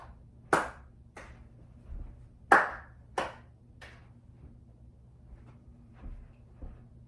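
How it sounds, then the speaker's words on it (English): Sharp, separate hand claps for the Tali step of a Garba dance, a few spaced beats with two louder claps near the start and softer ones trailing off, close and dry in a quiet room. "how to do Tali or 3 claps in Garba"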